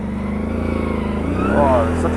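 An ATV on 31-inch MotoHavok tires drones at close range, its engine note climbing toward the end as it gathers speed, while someone talks over it.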